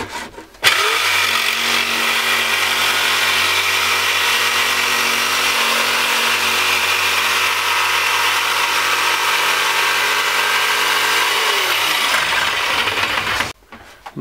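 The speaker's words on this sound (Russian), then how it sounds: "Ну, вырежу с помощью вот такого устройства. Называется маятниковая пила." Pendulum jigsaw cutting a board, a loud steady buzzing saw whine that starts abruptly and runs continuously for about thirteen seconds before stopping, close up with no talk.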